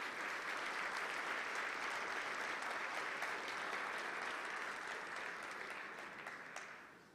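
A church congregation applauds in a steady, dense wash of clapping at moderate distance, holding evenly for several seconds before tapering off at the end.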